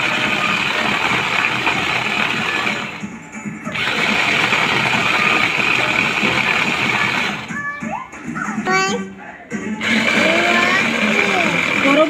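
A kitchen blender churns raw green mango into a milkshake, running with a continuous motor whir that dips briefly in places, while voices talk over it and a few higher tonal sounds break in.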